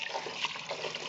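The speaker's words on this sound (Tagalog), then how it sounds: "hinuhugasan ko na po ang aming bigas" Rice washed under a strong running tap, a steady close splash and gush of water that never lets up, with no talking.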